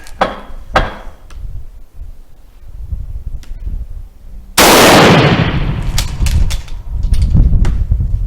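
A Spanish Civil Guard Mauser rifle fires at a shooting range: one sharp, loud gunshot cracks out and rings off, following a few softer clicks and handling knocks, with more clattering of the action afterward.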